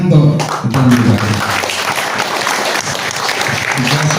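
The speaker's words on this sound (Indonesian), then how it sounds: "tepuk tangan untuk" An audience at an evening community gathering with the Samin people in Indonesia applauds. The clapping is loud and steady, and voices and crowd noise mix into it throughout.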